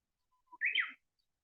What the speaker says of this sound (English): Is that Japanese nightingale behind? You can hear?